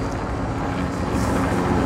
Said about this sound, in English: It's a bit windy out here on the water